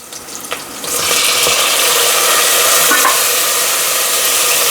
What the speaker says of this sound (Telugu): ఇప్పుడు మనం టమోటాలు వేసుకుందాం